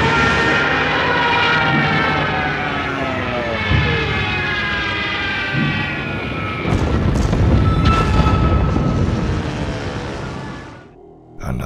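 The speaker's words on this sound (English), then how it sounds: "if you heard this screaming sound during World War II, it would have been absolutely terrifying" A World War II aircraft screams overhead with a loud, sliding howl that rises and falls in pitch, swelling into a rough, booming roar partway through before fading off.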